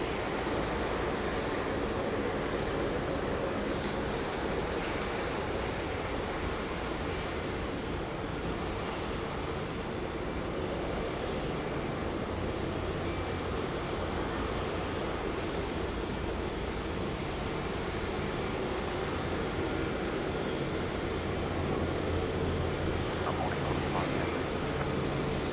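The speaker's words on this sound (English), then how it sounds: "So we've got two heavy international departures coming out now of Sydney." A Cathay Pacific Airbus A350-1000 departs Sydney Airport as a steady, distant jet roar that holds at a constant level for the whole stretch, with faint voices underneath.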